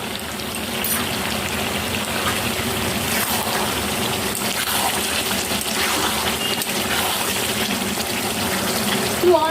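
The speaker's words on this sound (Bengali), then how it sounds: "সেদ্ধ হওয়ার জন্য আমি একটু জল দিয়ে দিলাম" Water is poured into a pot of homemade country chicken curry to boil the meat, a continuous splashing gush lasting several seconds over a busy kitchen background.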